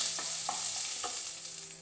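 Crushed garlic and onion fry in a pan for a bitter gourd gojju, giving a steady close sizzle with a few soft stirring scrapes over it.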